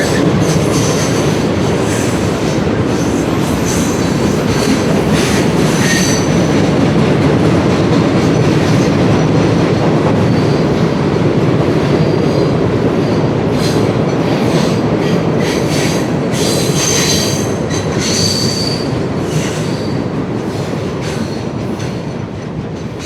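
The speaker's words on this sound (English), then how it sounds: "We're going to be able to go right underneath this train right now." A long train rolls by directly overhead at an Ohio park, a loud, steady roar of rumbling wheels with clicking joints and occasional squeals, continuous for the whole stretch.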